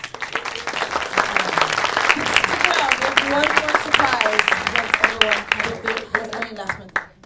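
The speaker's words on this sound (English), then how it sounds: "You can all give them a round of applause." An audience at a Miami film non-profit roundtable applauds the panel, a dense, steady wash of clapping that runs for several seconds with a voice speaking over it.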